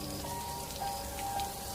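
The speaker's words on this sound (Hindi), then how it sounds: "तभी अचानक एकदम से बारिश शुरू हो जाती है।" Sudden heavy rain in a dense forest, a soft, steady hiss of drops on leaves and ground, faint and continuous, with no voices.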